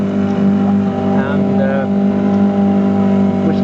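A sailboat motoring under engine power on a calm day holds a steady low drone with strong harmonic hum throughout, loud and continuous, with faint voice traces above it.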